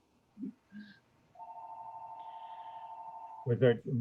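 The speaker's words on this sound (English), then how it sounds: "I'm just muting me because my phone's ringing" A phone in a town selectboard meeting room gives one steady electronic ring tone lasting about two seconds, with short bursts of nearby speech before and after it.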